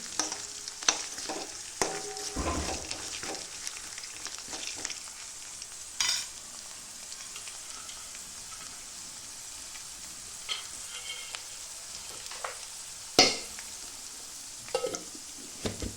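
Peanuts frying in ghee while being stirred, a soft steady sizzle with occasional light scraping clinks of the spoon against the pan, close but quiet.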